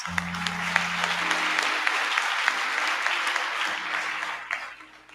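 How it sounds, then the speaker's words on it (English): Boys at a youth summit clap for themselves in a dense, steady round of applause that carries on for several seconds, then tapers off and fades at the end. "my boys, you just need to clap hands for yourselves"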